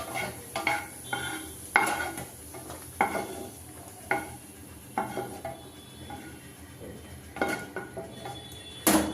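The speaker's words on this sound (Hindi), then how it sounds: "इसको भी 1 से 2 मिनट तक भून लेते हैं किशमिश को भी।" Raisins roasting in a pan are stirred with a spoon, producing repeated scraping and clinking strokes at an uneven rhythm over a faint background sizzle, close and fairly loud.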